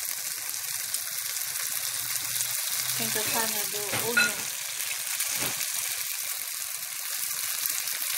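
Vegetables and onion stir-fry in a wok with a constant hissing sizzle and a brief burst of clattering stirring midway, fairly quiet and close, without talk.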